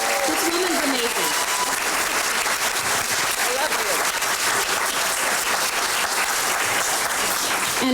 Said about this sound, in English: Can we all give Betsy a huge round of applause?